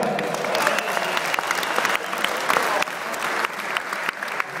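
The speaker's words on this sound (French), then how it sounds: "on peut l'applaudir bien fort, Jacques Ray." An audience at a 2012 Lausanne show ring gives a president dense, sustained clapping, steady and close with no pauses throughout.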